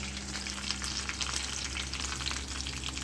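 Hot oil sizzles and crackles steadily with a dense, even hiss as tempering for dal fry cooks, no voices over it.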